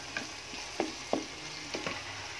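Ground chicken breast is stirred in a frying pan, with several scraping spoon strokes over a low, continuous sizzle and no voices.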